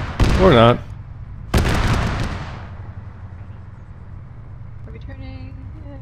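Two sharp, loud gunshot cracks in an Arma 3 convoy setting, each followed by a rolling echoing tail, with a vehicle engine rumbling steadily underneath and a brief spoken word in between.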